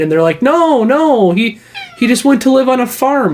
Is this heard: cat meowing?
yes